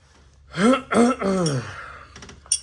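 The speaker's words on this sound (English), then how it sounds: "Let me clear my throat." A man clears his throat in a garage setting, a few rough voiced bursts over about a second and a half, close and fairly loud, followed by a faint clatter and a short sharp click near the end.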